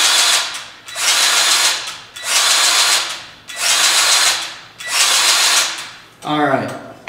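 A battery-powered grease gun greasing the center tower of a Gravely mower runs in five steady whirring bursts of about a second each with short pauses between them, and a voice speaks briefly at the end.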